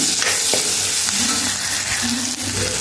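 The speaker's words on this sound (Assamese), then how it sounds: "ইয়াত মই কাটি থোৱা বিলাহী টুকুৰাকেইটা দিলোঁ ইয়াত আকৌ মই চলাই ল'ম" Chopped tomatoes sizzle loudly in a hot pan alongside potato while being stirred, a constant close-up frying hiss with occasional scraping strokes of the spoon.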